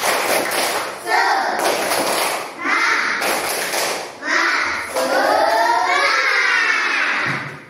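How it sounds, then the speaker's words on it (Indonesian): A classroom of pupils does a rhythmic spirit clap, sharp clap patterns mixed with children chanting along in bursts, loud and close. "Tepuk semangat"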